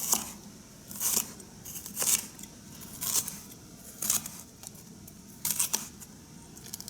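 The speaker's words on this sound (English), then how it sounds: "So cut this into strips" A knife slices portobello mushrooms into strips on a board, giving about six crisp, close cuts at a steady rhythm of roughly one per second, with no talking.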